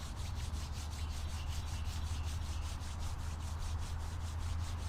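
Palms rubbing together at the close of an outdoor yoga class, a soft rhythmic swishing of quick regular strokes, close and steady with no talking.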